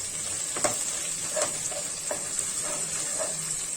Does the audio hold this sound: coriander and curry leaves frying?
yes